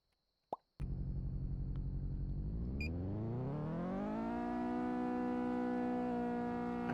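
Two-tone vehicle siren in a French roleplay video game set in Strasbourg, starting with a plop and then a steady wailing siren tone that rises in pitch and holds loud and continuous, with no talk.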